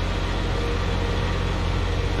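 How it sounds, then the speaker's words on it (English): A tractor engine in the farming game Farming Simulator 19 drones with a steady, loud, low rumble, unchanging and with no voices over it. "Gonna drop this tractor off."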